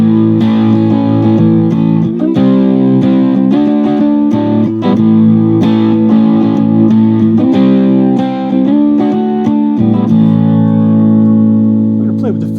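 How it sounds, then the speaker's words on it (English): Electric guitar through a JHS Pack Rat distortion pedal in LA mode, chords and riffs with thick, saturated distortion, loud and close, played alone in phrases with brief pauses. "If you're going for distortion, that's a really nice sound there. Next mode is the LA mode."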